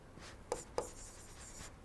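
Chalk or marker tapping and scratching on a board during a lecture on engine performance, four short sharp strokes over faint room noise with no talk.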